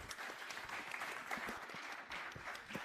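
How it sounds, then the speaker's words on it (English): Audience applause for the panelists at the close of a long-duration energy storage session: a steady, fairly faint patter of many hands clapping together for about three seconds, with no speech. "please give a round of applause to our panelists here"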